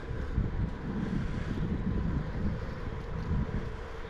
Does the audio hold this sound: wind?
yes